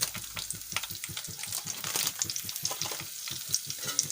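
Bay leaf and a few pinches of dried fenugreek leaves frying in hot oil for palak paneer, a close, steady sizzle with crackling pops throughout and no talk.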